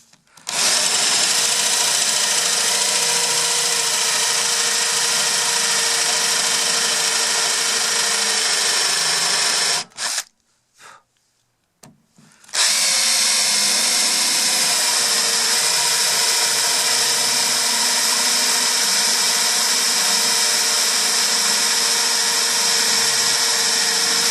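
A power drill bores holes into a wooden chair under repair, a loud, steady high-pitched whine running about ten seconds, then a short pause with a few faint clicks before the drilling resumes just as loud for the rest of the clip.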